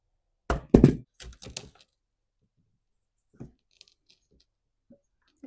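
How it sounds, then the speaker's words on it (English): Recoil starter being pulled off a Poulan 3000 chainsaw with a missing starter rope: a close cluster of loud plastic-and-metal thunks and knocks, then scattered faint clicks and taps. "Let's pull that recoil off."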